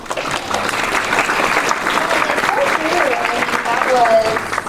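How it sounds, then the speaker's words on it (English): A convention panel audience at Wizard World Columbus 2016 claps and cheers together, a sustained burst of applause filling the room with a few voices mixed in. "Let's take a little clap."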